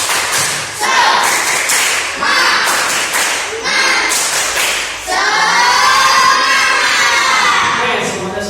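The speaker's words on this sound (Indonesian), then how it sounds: "Satu tepuk saja, biar tambah semangat. Tepuk semangat." Schoolchildren in a classroom perform a rhythmic clapping chant in loud, near bursts of claps and shouting that end in a sustained, tonal group shout.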